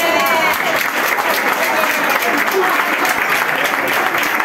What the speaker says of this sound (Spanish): otro aplauso para Rebeca